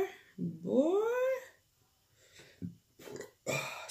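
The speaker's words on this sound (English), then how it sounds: "A little burp." A single drawn-out, rising burp sits close and fairly loud in the middle of a sushi mukbang eating session, with short mouth noises and smacking sounds after it.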